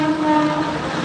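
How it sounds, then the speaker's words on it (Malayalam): A train rumbles along an overhead track near Thane, Mumbai, a steady mechanical drone with faint sustained tonal notes, continuous for the whole moment and without voices. "ട്രെയിൻ പോകുന്നുണ്ട് മേലേക്ക്."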